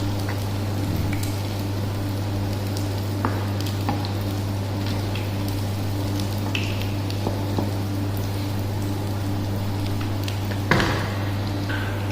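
Chicken kofta balls frying in a pan, a soft, steady sizzle under a constant low hum, with a few faint clinks and one sharper knock near the end.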